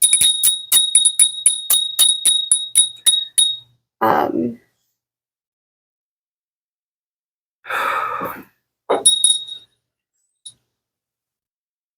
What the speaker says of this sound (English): I really love this little bell.